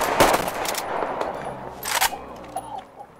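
Short automatic bursts of gunfire in Metro Exodus, with a sharp cluster near the start and another volley about two seconds later, separated by quieter ambient game noise.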